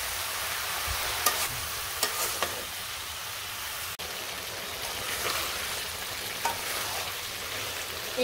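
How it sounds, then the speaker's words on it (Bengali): Vegetables and okra, seasoned with salt, turmeric and chili, fry in a pan with a soft steady sizzle while a spatula stirs and scrapes intermittently, a few sharp knocks against the pan. "এই পাশে যে আমার সবজি ভাজা হয়ে গেছে"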